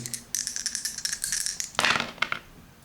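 Two small dice rattle and clatter across a hard surface during a tabletop role-playing game, a run of quick clicks followed by a sharper tumble and a few settling taps.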